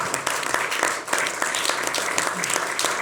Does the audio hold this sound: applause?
yes